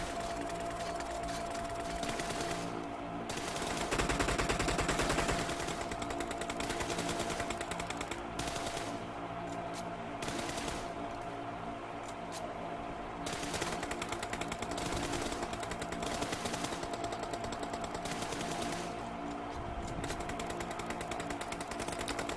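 Sustained automatic gunfire from the video game PUBG, rapid repeated bursts with short pauses between strings of shots, loud and continuous with no talking.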